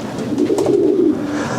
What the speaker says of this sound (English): So there's quite a few pigeons there now